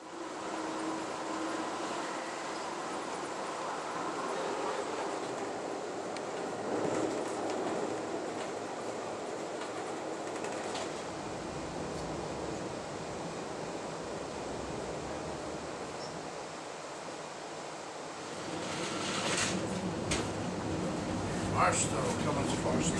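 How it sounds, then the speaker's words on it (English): Steady rumbling roar of an Amtrak Southwest Chief passenger train rolling along the rails across the Mojave Desert, a continuous wash of noise with faint rattles and clatter. "The train is now racing across the Mojave Desert"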